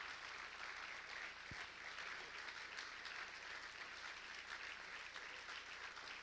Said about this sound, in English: give Congressman Devin Nunes a great round of applause